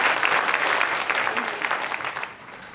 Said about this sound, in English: Alex Arndt and Yvonne Smith, please give them another round of applause.